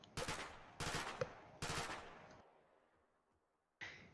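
Gunfire from the military shooter game ARMA 3 rings out in three loud, rapid bursts, each trailing off into a fading echo, followed by a fainter final shot.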